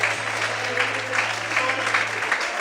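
A church congregation claps strongly and continuously, a dense wash of applause with a few voices mixed in beneath.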